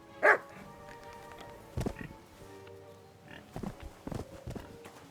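A dog in the game Kingdom Come Deliverance II lets out one loud close bark, followed by quieter scattered sounds and a few faint yips over a low background.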